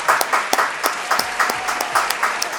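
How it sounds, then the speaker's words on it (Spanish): A studio audience claps at a talk-show taping, giving sparse, fairly loud claps in an uneven rhythm for a few seconds with no voices over them. "vamos a darle un aplauso a nuestro"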